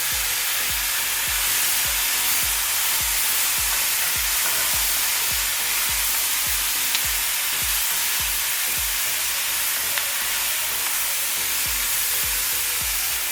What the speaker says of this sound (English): after our onions start to turn translucent, we're going to add a tablespoon and a half of garlic.